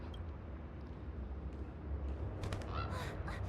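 A cawing bird call from Sunday's bird in Honkai: Star Rail rings out several times in the second half, high and bright over a steady low game rumble.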